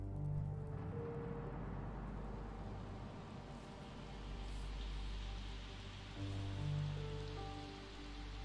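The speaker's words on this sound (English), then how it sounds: "The only detail I'm sure of is that it was raining early that morning." Rain falls early in the morning in a Sherlock Holmes video game, a soft continuous patter on surfaces under a low, quiet background hum with faint tonal music.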